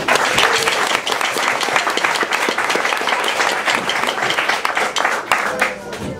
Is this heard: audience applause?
yes